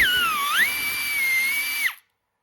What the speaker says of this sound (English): I just got my little air ratchet